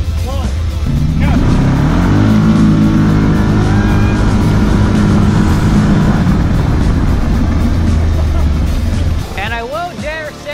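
Modified Yamaha Rhino 777 stroker and a Yamaha Wolverine X4 side-by-side launching in a drag race, loud engines revving and roaring together before easing off near the end, with talking over the noise.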